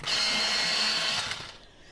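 An electric pencil sharpener grinds a Bistre colored pencil in one steady, high whirring burst lasting about a second and a half, then cuts off, close and alone.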